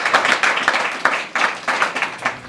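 Clapping from a small audience at a poetry gathering, coming in uneven bursts of hand claps that swell and fade several times over a couple of seconds, fairly close and without speech.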